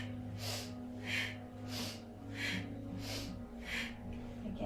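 Slow, deliberate breaths drawn in and pushed out through the nose during a seated yoga spinal twist, six rhythmic airy pulses close to the microphone over a low steady hum.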